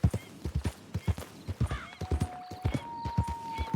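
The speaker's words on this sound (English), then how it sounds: "It's like a donkey or a mule" A donkey or mule walking in Red Dead Redemption 2, with steady, close hoof clip-clops in an even rhythm, loud throughout, with a faint tonal sound partway through.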